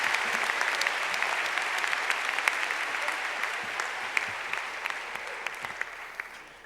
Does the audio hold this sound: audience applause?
yes